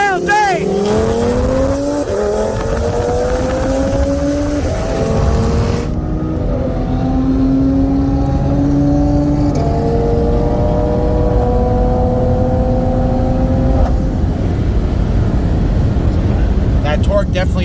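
A 2020 BMW M340i and a 2018 Audi RS3, both with bolt-ons on E85, accelerating hard from 40 mph in a race. A loud engine roar close by climbs in pitch, breaking at gear shifts around six and fourteen seconds.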